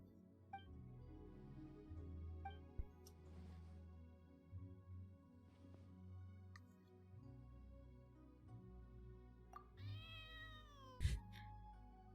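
A video game cat meows several times over a low, steady in-game background hum, with short separate mews spread across the stretch and a longer, rising and falling meow near the end.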